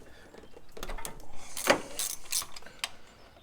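Wrench working loose the bracket bolts on a car engine, a few close ratcheting clicks and metallic knocks in short bursts, fairly quiet with no talk.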